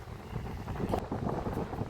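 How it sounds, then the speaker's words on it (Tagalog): Strong wind at a seaside camp in Calatagan, Batangas, before dawn, rumbling and buffeting against the microphone continuously, a dense roaring gust noise with no talking. "Napakalakas ng hangin."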